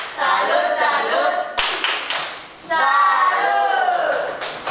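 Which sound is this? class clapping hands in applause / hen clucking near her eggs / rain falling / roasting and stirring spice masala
class clapping hands in applause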